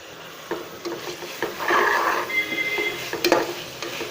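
Mint and coriander leaves for a coconut milk chicken biryani sizzle in a hot pan while being stirred, a soft steady frying hiss broken by scraping spoon strokes and light taps against the pan.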